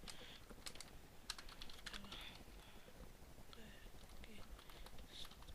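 Rapid, irregular keystrokes on a computer keyboard while chatting in the online game Habbo, close and fairly quiet, with clustered bursts of clicks and short pauses.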